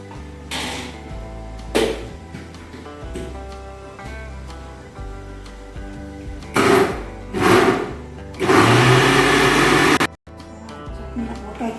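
A kitchen mixer grinder blending onion chutney runs in several loud bursts of a few seconds each, with short pauses and clatter between them.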